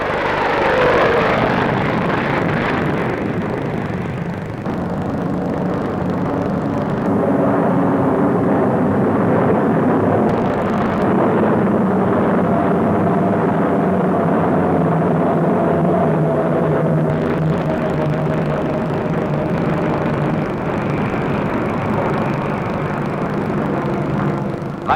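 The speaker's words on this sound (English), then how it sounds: "the Avro Vulcan bomber was top secret at Farnborough" An Avro Vulcan delta-wing bomber flying at the 1950s Farnborough air show: a loud, continuous jet roar that drones steadily throughout, with shifting tone as the aircraft passes, heard alone without talk.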